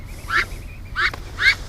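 A duck named Disco gives three short, nasal quacks at a steady pace, close by, during a final treatment while a low background hum runs underneath.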